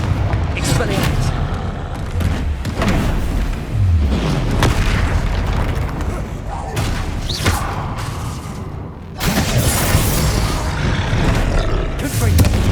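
A troll fighting in Hogwarts Legacy, with deep booming roars and grunts, heavy impacts and crashing bursts, loud and continuous, under a running battle with brief gaps.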